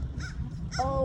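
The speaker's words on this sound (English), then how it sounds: "The seagulls are hating on you." Crows near a perch by the water cawing in short harsh bursts, several quick calls spread across a brief moment, with a sharper cry at the end.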